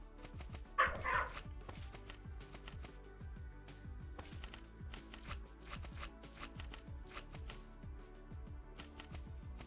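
Several dogs barking repeatedly indoors, a fast irregular run of woofs and yips with one louder burst near the start, continuing steadily at moderate distance with no talking over them.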